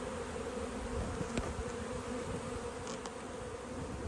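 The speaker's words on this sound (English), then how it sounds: "Oh, they're all flying back to their hive." Honeybees from a split colony fly back to their hive outdoors, a steady close buzzing hum with no talk.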